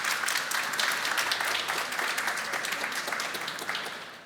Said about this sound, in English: So can we have a round of applause for this?